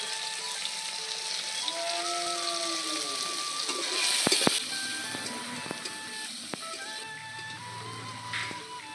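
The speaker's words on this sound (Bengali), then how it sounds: "টমেটো, কাঁচা লঙ্কা ভাজা হয়ে গেছে" Tomatoes and green chillies frying in a pan, a moderate steady sizzle with a few sharp clicks of a spatula, quieter sound behind it and no talking.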